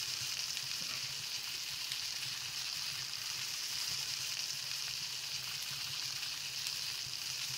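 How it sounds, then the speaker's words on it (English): Food sizzles steadily in a frying pan in the Palworld video game as eggs and chicken cook, a constant close crackling hiss with faint low background music and no talk. "I love my guys, like, frying eggs and chicken."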